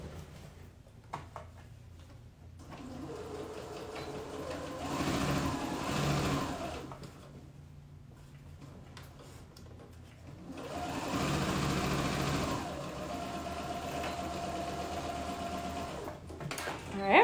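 A quiet sewing machine stitches elastic shorts in two sustained runs of steady whirring separated by a pause, fairly soft and close, with handling noises between.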